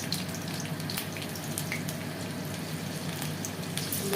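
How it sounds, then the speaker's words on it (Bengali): Chopped garlic and slit green chillies sizzle in hot oil, a steady close crackling hiss with no one talking. "তেল গরম হয়ে এসছে, এবার এক এক করে রসুন কুচি এবং কাঁচা লঙ্কা চিড়ে দিয়ে দেওয়া হবে"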